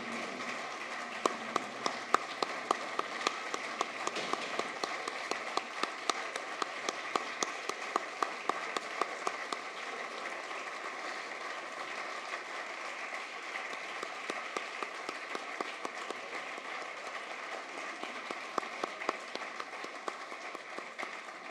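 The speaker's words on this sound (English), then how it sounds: "Let's have one final round of applause for our 2014 University of Portland Athletic Hall of Fame induction class." Sustained applause at the 2014 University of Portland Athletic Hall of Fame induction banquet: a steady wash of many hands clapping in a hall, moderately distant, with a few sharper claps standing out.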